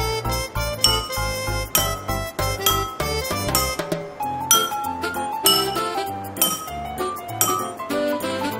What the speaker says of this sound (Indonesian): kita akan mencoba mengetahui bunyi dari setiap gelasnya